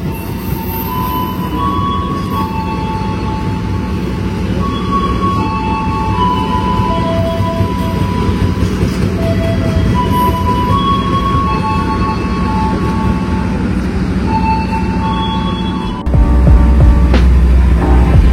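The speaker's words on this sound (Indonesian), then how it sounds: "Kereta api Mataram akan melintas langsung di stasiun Cirebon Perujakan" The Mataram express train rumbles steadily through Cirebon Prujakan station in Indonesia at speed without stopping, wheels grinding with thin metallic squeals above, building to a louder rushing burst near the end.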